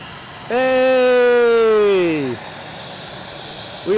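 A KLM airplane taxis at Edinburgh Airport, its engines giving a steady broadband roar throughout. A loud, drawn-out voiced call rises over the noise for about two seconds, then falls in pitch and fades.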